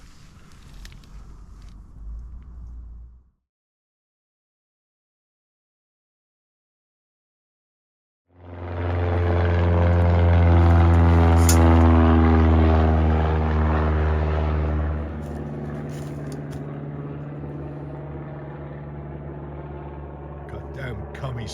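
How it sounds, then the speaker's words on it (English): A propeller spotter plane passes overhead above an Alaska observation post. After a quiet gap its engine rises into a loud, droning, harmonic roar, then eases slightly while still holding steady. "Goddamn commie spotter planes trying to get our position"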